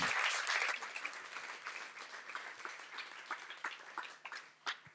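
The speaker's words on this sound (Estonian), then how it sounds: "Ja teeme veel ühe suure aplausi!" Applause from an audience at a student poetry event in Tartu, loud at first and thinning into scattered claps over five seconds, with a few sharp single claps near the end.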